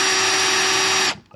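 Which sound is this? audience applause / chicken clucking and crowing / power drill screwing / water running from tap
power drill screwing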